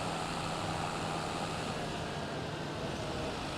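Tractor with trailer driving in a farming simulation game, a steady broadband engine drone and rolling rumble that holds loud and even throughout.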